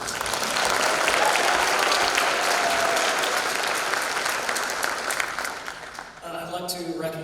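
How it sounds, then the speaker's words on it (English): An audience applauding at a county jazz festival, dense sustained clapping that fills the room, then thins out as a voice begins speaking near the end. "So let's give Mr. Baylor a round of applause."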